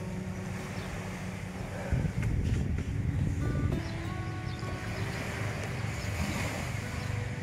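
Sea waves wash onto a beach at a minivan campsite under strong wind, a steady rumbling surge with gusty buffeting and a louder swell midway.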